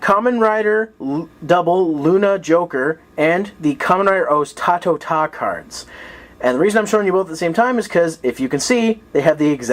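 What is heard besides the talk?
No everyday noise stands out behind the speech.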